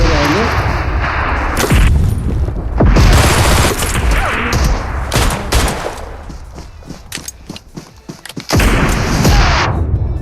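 Rocket explosions and gunfire in PUBG Mobile, a dense, loud barrage of booms and rapid shots with a brief lull before another heavy blast, people talking over the chaos.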